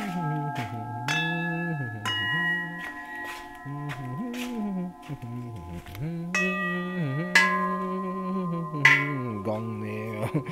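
A Japanese bronze Buddhist temple bell is struck several times, its sustained ringing tones overlapping and decaying while a person speaks over it.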